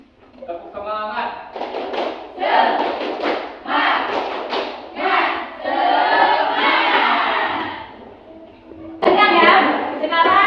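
A class of schoolchildren perform the tepuk semangat spirit clap, rhythmic bursts of clapping mixed with loud chanted group voices, an energetic call-and-response in a classroom with pauses between phrases.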